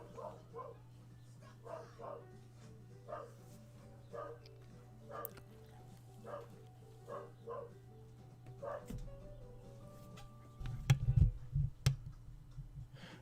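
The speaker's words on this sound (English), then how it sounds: "the dog immediately stopped barking outside" A dog barks outside in a repeated, evenly spaced series of muffled, distant woofs, fairly faint, followed by a louder burst of close handling noise at the end.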